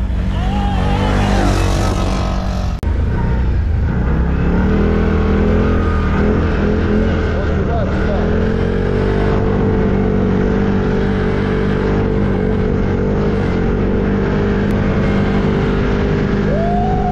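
A Stels Guepard ATV engine revs hard at a gathering of these quad bikes on different tyres, a loud, sustained roar that swells and shifts in pitch without letting up.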